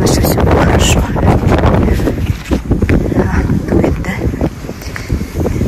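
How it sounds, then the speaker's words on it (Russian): Strong, gusty wind blasting against a phone microphone outdoors on a cold day, a loud continuous roar that swells and dips throughout. "Да, кстати, сегодня очень сильный ветер."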